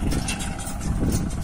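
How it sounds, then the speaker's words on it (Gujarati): A brand-new tractor engine revs continuously and loudly at close range, a steady low rumble with slight surges throughout, no speech over it. "નવે નવું ટ્રેક્ટર છે, રિવેશ મારે છે."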